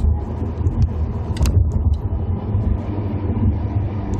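A 2014 Honda Civic Si with a manual gearbox heard from inside while downshifting, giving a loud, steady low engine and road rumble with a brief mechanical clunk partway through.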